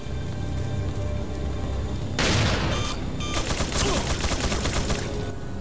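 Rapid bursts of gunfire in Resident Evil 4, loud and dense, breaking in after a steady background and rattling on in repeated volleys.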